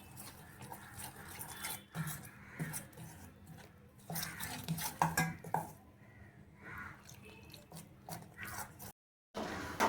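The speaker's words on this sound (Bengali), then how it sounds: "একটা চামচ দিয়ে আমি এটা মিক্সড করে নেব" A metal spoon stirs fish fry batter of bata fish, ground black pepper and a little water, giving repeated clinks and scrapes against the bowl that stop briefly near the end.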